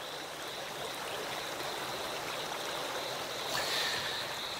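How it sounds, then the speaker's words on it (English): Water rushes steadily in a stream, a dense, continuous hiss and gurgle close by, swelling slightly toward the end. "The sound of rushing water could drown out the calls of a frog."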